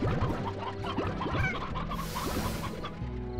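Chickens clucking in a Slime Rancher ranch, several birds overlapping in busy, close, continuous chatter with short rising squawks throughout.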